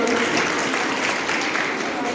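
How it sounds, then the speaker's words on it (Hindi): An audience at a girls' school function claps together in a short, lively burst lasting about two seconds, with voices mixed in. "ताली बजा दीजिए एक बार सभी।"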